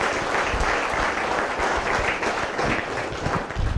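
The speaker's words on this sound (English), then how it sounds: "I think all those people deserve a big clap" A hall audience applauds at a corporate event, a dense, steady round of clapping lasting several seconds with no pauses.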